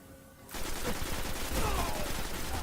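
Rapid bursts of assault rifle and shotgun fire in the online shooter Destiny's Crucible multiplayer mode, loud and dense after a quiet start, with overlapping shots continuing steadily to the end.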